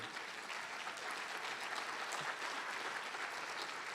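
Audience applause at a fall college convocation, a dense, even wash of many hands clapping, fairly distant and soft, sustained throughout without any talk.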